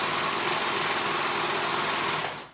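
Sewing machine running steadily as it stitches the side seam of a dress, a continuous loud mechanical whir for about two seconds before slowing and stopping, with no voices.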